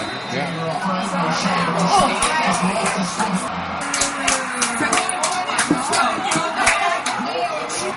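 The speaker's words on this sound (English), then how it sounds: "I'm just listening as closely as I can to the announcer and the cheering of the people" A pro-Mayo crowd at a Mayo vs Dublin Gaelic football match, heard as a broad roar of chatter and cheering with shouts rising over it and a nearby voice talking underneath.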